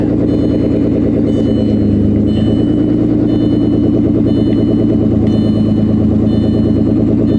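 A 1998 Audi A6 Avant engine runs steadily and loudly throughout, a constant idling rumble with a slight rise in revs partway through, no voices.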